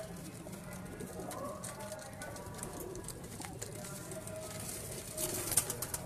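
Pigeons coo softly among a flock of birds, the low murmuring calls spread across a busy, noisy loft background with faint voices.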